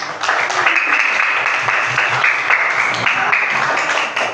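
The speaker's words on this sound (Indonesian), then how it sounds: "Beri tepuk tangan kepada temannya." Classroom applause for students, steady clapping from a group that fills the room for several seconds at close range.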